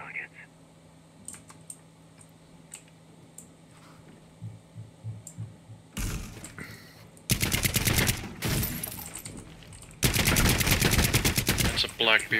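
Paintball gun fire in a video game, a quiet stretch of scattered clicks and hum giving way to two long, loud bursts of rapid-fire shots that rattle on for a few seconds each.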